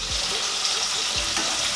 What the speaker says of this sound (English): So you're basically cooking it roughly 2 minutes either side. You're just searing it.